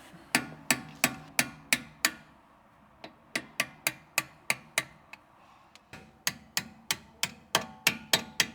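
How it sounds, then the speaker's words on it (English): A steel hammer strikes a punch to drive out a brake pin on a Porsche 944 during a brake pad change, sharp metallic taps in quick evenly spaced bursts with short pauses between groups, close and clear. "I need a punch and a hammer."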